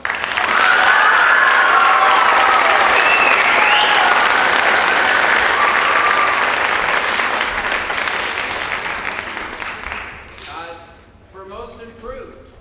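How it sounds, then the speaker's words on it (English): An audience at a high school spring band concert applauds loudly and steadily, a dense wash of clapping with some cheering that tapers off near the end, after which a voice starts speaking. "Can we give another round of applause?"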